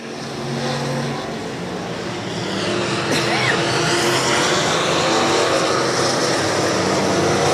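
Race cars run nose to tail down the back straightaway of a dirt speedway, a loud continuous engine roar that swells and holds steady with no break.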